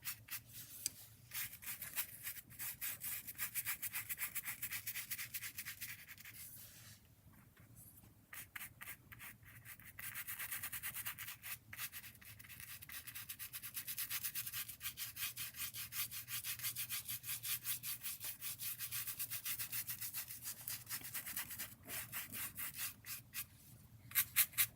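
Drawing tools rub and scratch across a rough, sandpaper-textured clear gesso surface in long rhythmic strokes, close and fairly quiet, with brief pauses between passes and no talking.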